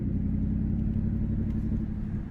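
A race truck's engine drones steadily while driving, a loud, close, low rumble with no breaks or revving peaks across the short stretch and no talk.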